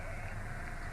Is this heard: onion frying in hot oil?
no